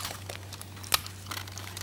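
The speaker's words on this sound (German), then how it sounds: "Und dann müssen wir mit dem Tesa das fixieren." Tesa adhesive tape is handled to fix a children's craft piece in place, a soft crinkling with one sharp brief rip or tear in the middle, near and quiet over a steady low hum.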